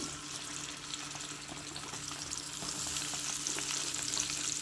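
Onions fry in hot oil for a tomato chutney, a steady close sizzle that grows slightly louder, with occasional stirring scrapes and no voices.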